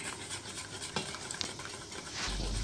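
Four eggs being mixed with pre-mixed flour in a mixing bowl for a sponge cake: quiet, quick scraping and stirring with a faint utensil clink, close and soft, with no voices.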